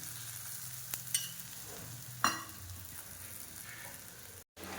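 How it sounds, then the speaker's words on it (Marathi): Bottle gourd dhapate flatbread frying in oil on a pan, a steady close sizzle with a few sharp spatula clicks and scrapes, cut off briefly near the end. "असे खरपूसच आपल्याला भाजून घ्यायचे आहे"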